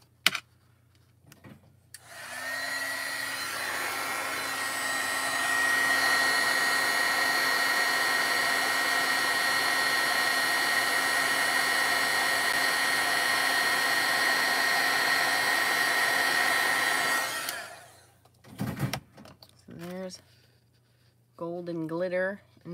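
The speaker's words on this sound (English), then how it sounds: "we move all of this out of the way before we bring our heat tool in" A heat tool for heat embossing blows a loud, steady whirring stream of hot air for about fifteen seconds, then switches off; a voice speaks before and after.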